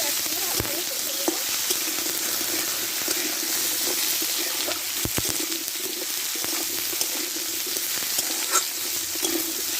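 Vegetables fry with turmeric in a hot pan for a fish-head and Malabar spinach dish. A continuous loud sizzle runs throughout, broken by repeated clacks of a spatula stirring close by.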